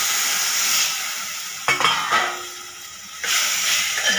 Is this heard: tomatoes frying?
yes